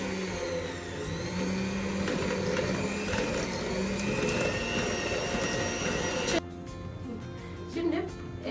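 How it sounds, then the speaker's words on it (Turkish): An electric hand mixer whirs steadily, beating eggs and oil for cookie dough, a loud continuous motor drone that cuts off abruptly near the end, leaving quieter kitchen sounds. "Şimdi yumurtayla yağımızı mikser yardımıyla"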